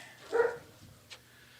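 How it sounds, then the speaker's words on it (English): A dog named Diesel gives a single sharp bark, fairly faint and somewhat distant, and a brief small yip follows soon after against a quiet background. "Diesel's barking at Jack."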